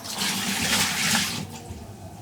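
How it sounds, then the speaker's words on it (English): Rinse water from washing raw liver is poured into a bucket in a short, loud splashing gush that tapers off after about a second and a half. "So I can maybe dispose this water in my spare bucket here."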